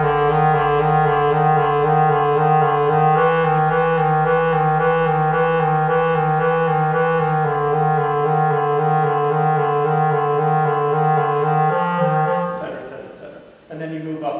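A clarinet plays a sustained, steady alternating trill pattern, clear and close, shifting pitch slightly partway through before a brief break of handling noise.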